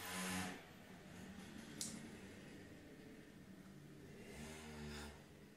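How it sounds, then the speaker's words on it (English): A motorbike passes by outdoors at a moderate distance, its revving engine swelling briefly at the start and again near the end, with a steady, faint engine drone in between. "Another motorbike."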